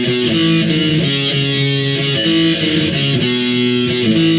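Distorted electric guitar chugs through a pop-punk pre-chorus riff, loud and steady with rhythmic chord changes throughout and no pauses.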